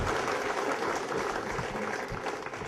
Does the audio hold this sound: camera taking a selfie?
no